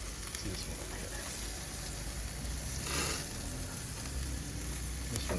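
Marinated chicken sizzling on a hot grill in the Philippines, a steady close crackling hiss with a brief louder flare partway through.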